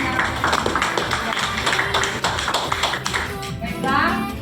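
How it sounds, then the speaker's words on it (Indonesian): A class of students applauds together in an Indonesian classroom during an entrepreneurship lesson on marketing management, a steady patter of many hands clapping close by for several seconds, with some voices mixed in. "kita kasih aplaus dulu buat semuanya"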